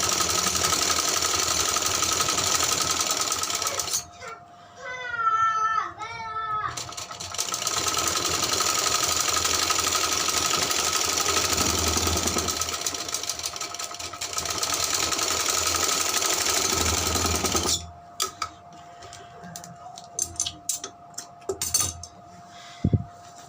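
Sewing machine stitching a sleeve seam on a frock, running in long steady bursts close up, with a pause for handling fabric and clinks, then stopping near the end for quieter handling sounds.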